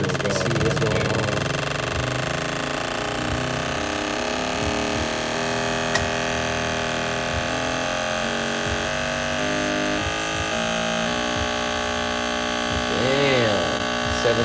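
A fuel injector cleaning machine runs clogged injectors at 7,000 RPM, giving a steady, loud electrical hum with a buzzing drone, faint shifting tones and a brief click partway through.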